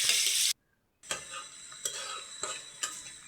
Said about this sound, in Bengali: এখন এই যে পেঁয়াজটা একটু লাল লাল করে ভাজা দিছি